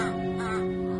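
Crows caw from the trees over a steady tonal hum, a short call of about one second, moderately loud and fairly close.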